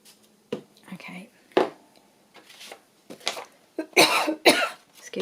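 A few close, sharp coughs scattered between quiet murmuring and soft handling noises, the last coughs louder and harsher.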